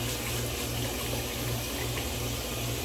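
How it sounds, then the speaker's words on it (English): Cold water running steadily from a bathroom tap in a Las Vegas shaving setup, a constant close rushing hiss with a low pump-like hum underneath, no talking. "Get some cold water here."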